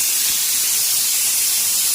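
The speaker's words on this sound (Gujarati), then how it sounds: "જો તમને બધાને જોઈને આ સીટી મારે છે કુકર મારું" A pressure cooker cooking dal releases steam in a loud, steady hiss that fills two seconds, near and continuous with no speech over it.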